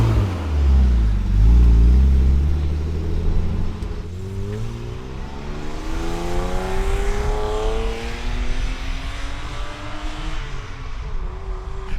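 A BMW E36 engine revs loudly up close, climbing and falling through several throttle blips, then settles into a sustained higher rev with rising and falling pitch sweeps over the remaining seconds.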